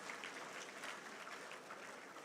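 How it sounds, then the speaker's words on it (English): An audience at an engineers' annual general meeting applauds steadily, a dense, even wash of clapping hands that sounds somewhat distant and fairly faint, with no talking over it. "A round of applause for Nigerian engineers, please."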